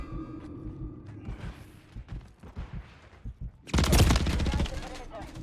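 A burst of rapid automatic gunfire erupts loudly in Modern Warfare III multiplayer after a stretch of quieter game noise and chatter, the rattling volley lasting about a second and a half.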